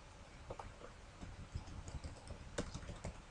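Faint, quiet keystrokes tap irregularly on a computer keyboard as data is entered into a form, with a few sharper clicks among the softer taps.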